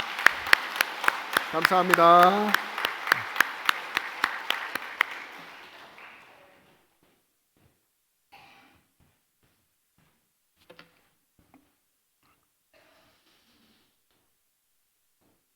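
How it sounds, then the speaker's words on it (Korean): A church congregation claps steadily for about six seconds during a Korean Sunday worship service while someone speaks briefly over it, then the applause fades into near silence with a few faint knocks. "우리 크게 한번 박수하겠습니다."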